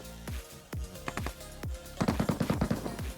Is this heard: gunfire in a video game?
yes